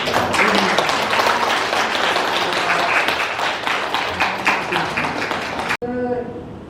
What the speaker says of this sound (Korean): 비평 제9호 출간을 위해 고생하신 네 분께 모두 큰 박수를 보내드립니다